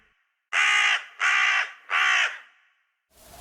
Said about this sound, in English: listen to his dreadful croak